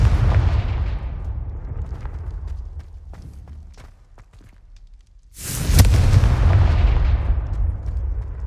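A Confringo fire spell bursts in Hogwarts Legacy with a loud explosive boom, preceded by rumbling blasts that fade to a lull before a sharp, bright detonation and a long roaring tail.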